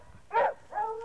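Hunting dogs at a fox hunt give two short, close baying or whimpering calls, the first louder and the second slightly longer and fainter, with nothing else in the background.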